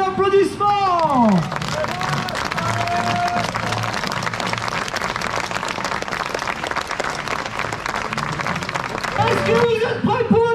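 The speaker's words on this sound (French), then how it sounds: "J'aimerais entendre résonner ici à Annecy un tonnerre d'applaudissements." A large crowd bursts into thunderous applause and cheering at the start line of the Maxi-Race trail running race in Annecy, dense and sustained across the whole stretch, with a voice talking over it at the start and end.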